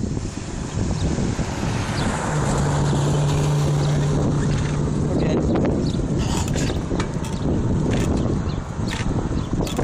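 Strong wind roaring steadily and buffeting the microphone while riding a bike, a loud continuous rush with no pauses.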